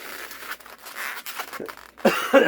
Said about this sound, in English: all of a sudden I got a cough going here